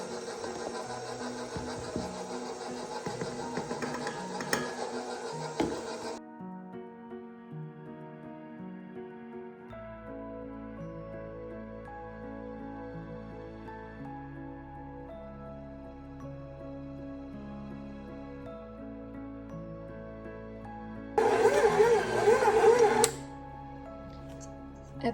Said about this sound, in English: I'm going to go ahead and turn it on to mix, and I'm going to start adding my flour.